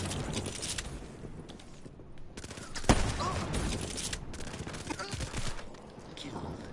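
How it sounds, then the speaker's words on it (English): Automatic weapon gunfire in Call of Duty crackles in quick rattling bursts with one sharp loud crack, fairly faint overall, with scattered clicks and brief talk mixed in. "Now he's using an automatic weapon."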